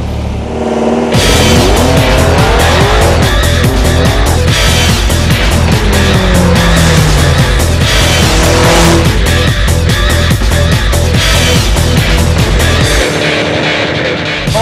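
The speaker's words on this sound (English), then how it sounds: "Doesn't that absolutely sound beautiful? The roar of the V8, the champion of all champions." A V8 car engine roars loud and close, a continuous deep growl with rising and falling revs and sharp pulsing bursts, holding steady for most of the stretch before cutting off near the end.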